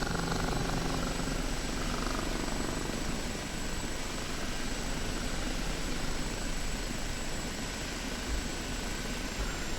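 Kiowa helicopter in the DCS flight simulator, a steady, loud rotor and engine drone that fills the whole stretch without pause, setting down at the end of a slow, low hover approach.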